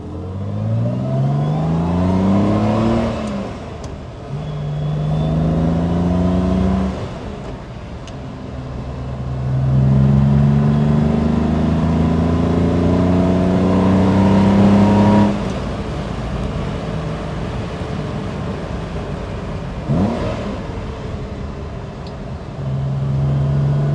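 A 1967 Aston Martin DB6 Vantage with a 4.7 liter engine driven on a winding back road, its engine loud and close as it revs up through gears, with rising pitch sweeps, shifts and steady cruising drone.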